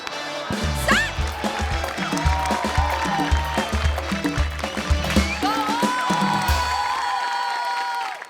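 Audience applause and cheering at a Marathi comedy show, a steady crowd wash running under loud, rhythmic music with a thumping beat for the whole stretch.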